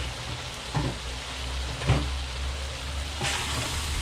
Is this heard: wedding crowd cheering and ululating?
no